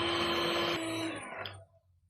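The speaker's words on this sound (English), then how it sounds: "We're going to whisk until the cream is nice and thick and it forms little peaks." An electric whisk whips fresh cream for a cheesecake with a steady, close mechanical whine that drops in pitch partway through and then cuts off, leaving near silence.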